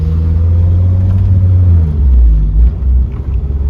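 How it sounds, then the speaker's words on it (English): A Mitsubishi Eclipse with a swapped K20Z1 Type S engine drives along, its engine giving a loud, steady low rumble heard from inside the car, with a slight shift in pitch partway through. "right now we're just gonna go for a quick little test drive."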